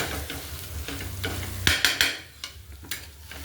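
Egg bhurji frying in plenty of oil is stirred with a spoon in a pan, giving a steady close sizzle with repeated scraping strokes and a few sharp clinks against the pan. No one speaks.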